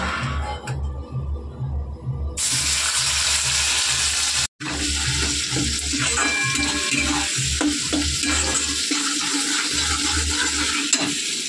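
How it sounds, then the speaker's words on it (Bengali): Black cumin seeds tempering in hot oil in a wok, a loud continuous crackling sizzle close up, with a brief cut midway before the dense frying resumes. "কালো জিরে নিয়ে নিয়েছি, তেলে গরম হয়ে গেছে, ফোড়ন দিয়ে দেবো"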